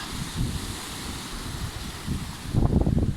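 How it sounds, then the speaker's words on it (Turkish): Strong wind buffets the microphone in a continuous roar, with louder low gusts near the end. "Biraz değil bayağı bir rüzgarlı."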